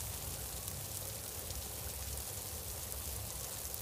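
Steady, dense pouring rain falls without pause around two cold lion cubs in monsoon weather, a continuous broad hiss and patter at moderate distance with no voices.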